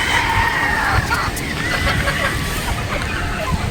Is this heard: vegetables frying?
no